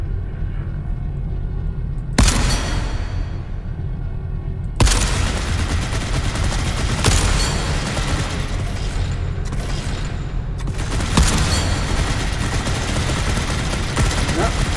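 Sniper rifle shots in the video game Volcanoids, a handful of loud, sharp reports spaced a few seconds apart, each with a ringing tail, over a steady wash of game noise and rumble.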